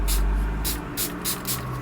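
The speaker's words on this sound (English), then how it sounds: "So I'm going to spray this." Short hissing bursts of spray on a craft project, about five quick close puffs in a row, each lasting a fraction of a second, over a low steady background hum.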